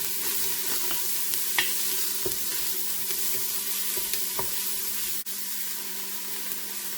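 Rough chopped onion sautéing in olive oil in a pan, a steady close sizzle with occasional soft clicks of stirring, no voices.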